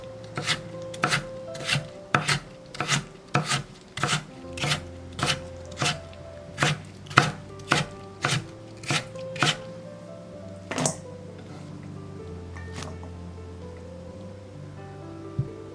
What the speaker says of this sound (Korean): 다시 같은 두께로 채 썰기.